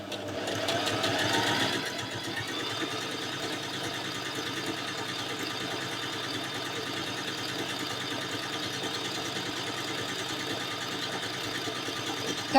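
A Family 25 PRO sewing machine sewing a dense, short-length stitch, a steady continuous whir with a fast even rhythm running close and alone, slightly louder at the start.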